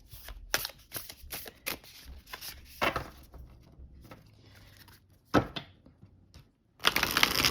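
Nest of Light oracle cards on linen stock being shuffled by hand, a series of crisp riffling bursts and soft slaps with brief pauses between, close and moderately loud with no talking.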